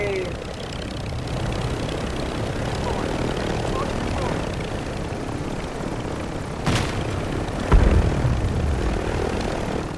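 A helicopter in an online shooter video game drones steadily through the background, with a sharp boom and impact near the end; players talk over it.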